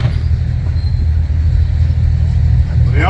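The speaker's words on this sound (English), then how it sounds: "Here they come. Churchill Mark III, packing a 6-pounder." A Churchill Mark III tank carrying a 6-pounder gun approaches with a loud, steady low engine rumble, continuous and heavy throughout, with a brief rising whine near the end.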